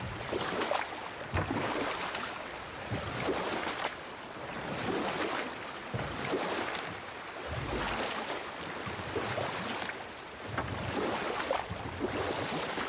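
Oars rowing a boat across water in God of War, with rhythmic, evenly spaced splashing strokes about every two seconds over a soft wash of waves and wind, no talk.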